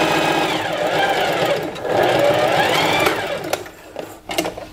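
A sewing machine stitching a seam with white thread on fabric for a pet's witch-hat costume, running in steady bursts with a brief pause and clicks near the end, close and loud, no talk.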